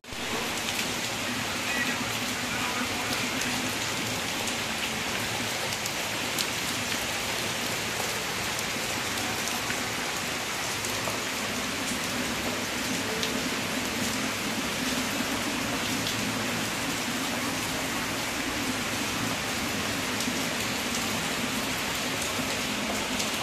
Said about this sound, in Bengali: প্রচুর বৃষ্টি হচ্ছে বাইরে, খুব বৃষ্টি হচ্ছে